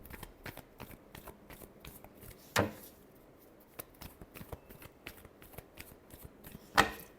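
A deck of tarot cards is shuffled by hand in soft, quick riffles and slides, faint and close, with a couple of sharper snaps as the cards are squared or bridged, and no voice.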